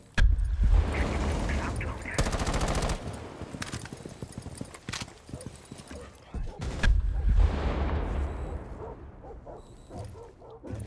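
Repeated rapid gunfire from a first-person shooter video game, loud bursts of shots with heavy recoil, under ongoing voices of players talking.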